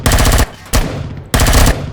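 A turret fires in the video game Empyrion, producing three loud, close bursts of rapid machine-gun fire separated by short gaps.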